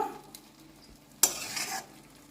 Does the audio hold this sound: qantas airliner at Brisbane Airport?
no